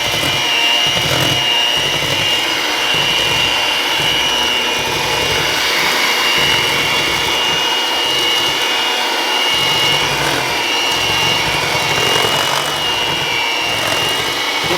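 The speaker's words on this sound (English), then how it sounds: "Then we're going to take and we're going to mix this here up together." Sugar being mixed together for tea cakes, heard as a loud, steady whirring and grinding roar that runs unbroken for the whole stretch, with no talking.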